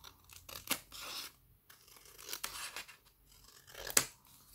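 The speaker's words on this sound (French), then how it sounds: "J'ai besoin de ciseaux." Scissors snip through the bottom edge of a paper envelope in a few quick, close crunching cuts with brief rasping between, quiet and without talk.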